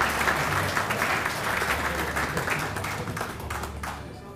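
A hall audience applauds award winners at a business awards ceremony, sustained clapping from a sizeable crowd that gradually thins and fades toward the end.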